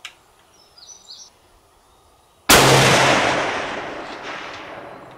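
A single loud, close Swiss K31 rifle shot at a 500-yard range breaks a quiet outdoor scene with faint bird calls, followed by a long decaying rumble.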